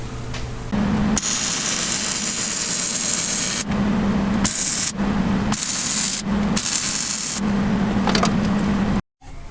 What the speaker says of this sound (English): the hole saw bit doesn't work very good. Super slow, and it kept almost freaking breaking my arm off